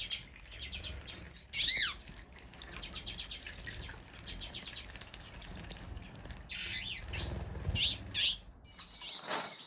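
Twite finches chirping and calling in an aviary, bursts of bright twittering notes with a few louder calls and brief wing flutters, near and lively with no talk.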